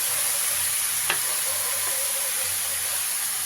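Eggplant pieces, soaked in salted water, fry in a little oil in a pan for a potato-brinjal curry, giving a steady, close, loud sizzle with one brief crackle and no talking.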